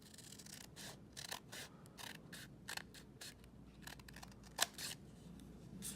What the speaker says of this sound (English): once I get close to the end, I'm just going to snip